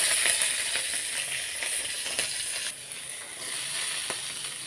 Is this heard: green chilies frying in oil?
yes